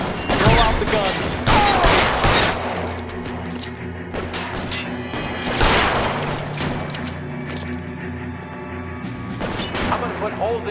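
Gunfire in a shootout in the game L.A. Noire, with sharp repeated shots cracking in clusters, some rapid volleys and crashes, loud and close, with voices talking in between.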